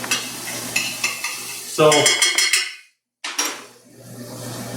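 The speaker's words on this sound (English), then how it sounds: "it talks about scraping the pan to loosen up all the bits and stuff" Pan being scraped while chicken piccata cooks, sizzling frying with bursts of metal utensil scraping against the pan, a brief drop to silence, then more scraping and sizzle; one short spoken word.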